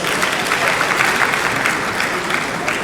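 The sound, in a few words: audience applause at an awards ceremony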